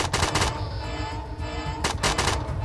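Rapid rattling bursts of gunfire and blasts in the video game ATOM RPG, with a grenade going off nearby; two dense loud volleys bracket a rumbling middle section.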